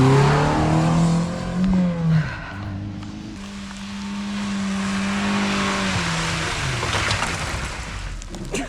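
A car revs repeatedly while its tires slip without gripping, the engine note rising and falling loud and close for several seconds, with a rougher whine of spinning wheels toward the end and no voices.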